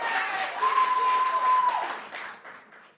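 Audience applause at a Baltimore City State's Attorney candidate debate forum, a fairly loud burst of clapping with a steady tone running through the middle, fading over the last second.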